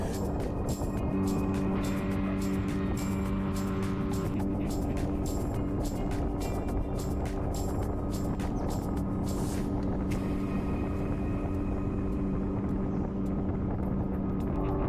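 A kerosene-powered fishing boat engine drones steadily at speed on open water off Sri Lanka, a loud continuous hum with wind rush throughout and no talking.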